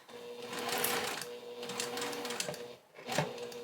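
A sewing machine back stitching the bottom of a tote bag, running in close, steady mechanical bursts with a brief pause and restart near the end.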